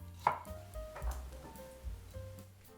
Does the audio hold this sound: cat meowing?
no